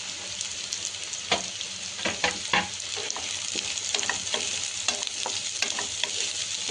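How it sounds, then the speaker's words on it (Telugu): Onion, carrot, beans and curry leaves fry and sizzle in hot oil on high heat for chicken samosa filling, with steady crackling and intermittent stirring scrapes and clinks close by. "ఒక 2 నిమిషాల పాటు స్టవ్ని హైలో పెట్టేసుకొని మనం ఫ్రై చేసుకోవాలి"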